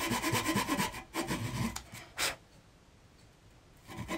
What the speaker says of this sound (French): j'ai pris une lame plutôt de dents fines, et je viens faire les entailles le long de mon tracé